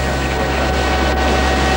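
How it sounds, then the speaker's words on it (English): A relief aircraft loaded with food, flying into Somalia, gives a loud, unbroken engine drone that fills the whole moment. "Planes like this, full of relief food, have been flying into Somalia several times a day for months now"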